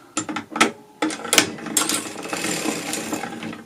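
Hand-cranked sock knitting machine being cranked back the other direction while turning a heel, a close run of metallic clicks and ratcheting clatter, bursty at first, then a steadier mechanical rattle.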